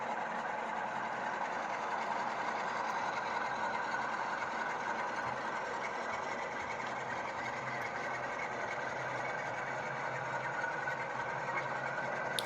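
A Class 47 locomotive on a model railway layout gives a steady, even motor whir and rail rumble, continuous and moderately faint with no talking.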